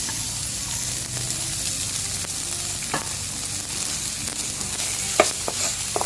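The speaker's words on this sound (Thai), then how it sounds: "ตามด้วยเนื้อที่เราหั่นไว้นะค" Sliced beef hits a hot pan for a Thai basil beef stir-fry and sizzles steadily for several seconds. A few faint clinks of a utensil rise above the sizzle, and no one speaks.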